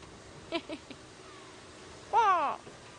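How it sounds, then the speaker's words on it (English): On a morning safari drive, a go-away bird gives a short, harsh, nasal call with a derisive tone. A few faint clicks come before it, against a quiet outdoor background. "Goes the go-away bird"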